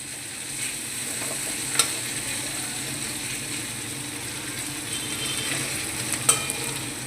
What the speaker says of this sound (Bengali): উচ্ছে ভাজাটা একটু মুচমুচে করে ভাজা করব।